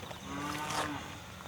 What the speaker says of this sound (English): There's a cow there, mate.